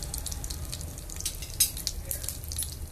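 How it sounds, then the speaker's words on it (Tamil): Mustard seeds and cumin spluttering in hot oil while mango tokku is being made, a quiet, steady crackle with scattered small pops and one sharper burst, no talking. "கடுகு நல்லா பொரிஞ்சோடனே"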